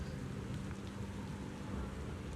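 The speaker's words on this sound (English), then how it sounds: "It is raining." Rain falling in a video game, a steady soft hiss of drops with a low rumbling wash underneath, continuous and fairly quiet with no voices.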